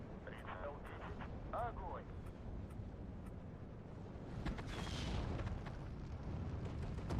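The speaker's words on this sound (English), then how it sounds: "I think these are mostly just mortars." Mortar rounds land across a Steel Division 2 battlefield, a low rumbling run of distant explosions and bursts under someone talking quietly.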